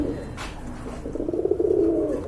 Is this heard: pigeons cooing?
yes